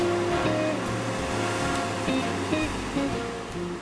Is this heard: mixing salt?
no